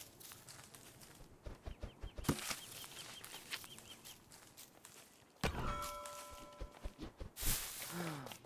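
A bird in the video game Don't Starve Together clucks and flaps its wings in short bursts, mixed with scuffling footstep sounds and other game effects at moderate volume.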